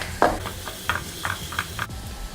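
Onion and garlic sizzle in a frying pan, with a soft frying hiss broken by several light spatula scrapes and stirs at close range.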